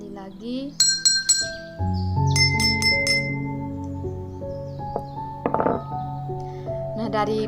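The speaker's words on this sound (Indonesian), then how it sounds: "terdengar perbedaan bunyi dari kedua gelas, di mana gelas yang terisi setengah bunyinya lebih nyaring dibandingkan yang isinya lebih banyak" Spoon striking two drinking glasses, one full of water and one half full, producing repeated bright clinks of differing pitch in quick clusters, close and ringing, with a brief voice at the start.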